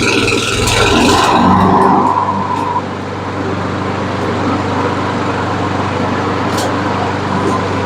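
A Honda lawn mower engine runs steadily at full choke after starting, a loud, even low hum and drone with a brief scraping rattle near the start.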